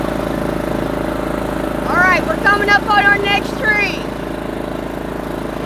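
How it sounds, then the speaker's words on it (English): A lawnmower runs nearby in an outdoor setting during black walnut picking, giving a steady engine drone that continues under someone speaking briefly. "Sorry about the lawnmower, folks."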